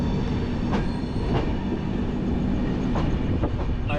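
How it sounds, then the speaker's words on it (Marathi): A passenger train runs steadily on the tracks near the end of a 26-hour journey, a continuous close rumble broken by occasional clickety-clack jolts and faint wheel squeals, with no talking. "फायनली 26 तासाची ट्रेन जर्नी आता आमची थोड्या वेळात संपते आहे"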